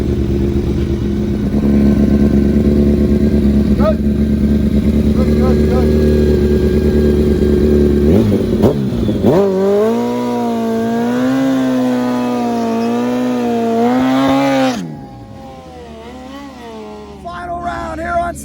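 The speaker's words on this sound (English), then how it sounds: "Final round here on Cycle Drag. Kawasaki versus Suzuki." Kawasaki and Suzuki drag motorcycles in a final-round race, engines droning loud and steady, then rising in a long revving pull as they launch and accelerate before cutting off near the end, with crowd noise or talk underneath.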